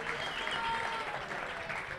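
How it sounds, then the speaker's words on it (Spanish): Audience applauding a judge and graffiti artist at a mini sumo robot competition, a steady mass of clapping from a crowd, moderately loud and continuous, with a faint murmur beneath it. "Un fuerte aplauso para el juez y grafitero Pablo"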